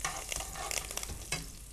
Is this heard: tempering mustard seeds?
yes